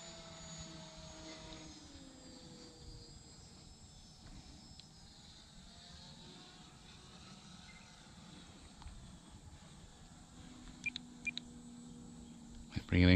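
A Tower Hobbies Cherokee electric RC plane makes a full-throttle low pass, a faint, thin motor whine that sweeps in pitch over several seconds against quiet outdoor background, with a few clicks near the end.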